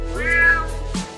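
A cartoon cat gives a single drawn-out meow, loud and close, its pitch rising and then falling, with a brief squeak just after it.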